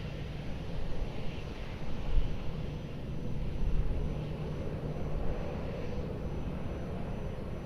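An airliner takes off from runway 02 at Lisbon Airport, a distant, faint broad roar of jet engines that swells slightly and holds steady, with no talk.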